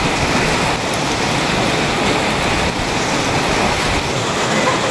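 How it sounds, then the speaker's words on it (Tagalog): Steady rain falling outside, a loud, dense, unbroken hiss that stays even throughout, with no talk. "Ngayon po ay maulan po dito na naman po sa amin."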